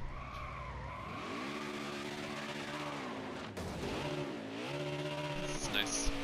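A race car in a racing game downshifting into first gear: a loud engine drone with stepped pitch changes as revs blip and drop, plus tire squeal toward the end, while a voice talks over it.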